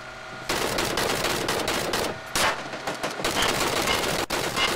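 Rapid automatic weapon fire in PUBG, sustained and loud after a quiet opening half second, rattling in dense bursts with a couple of brief breaks and no speech.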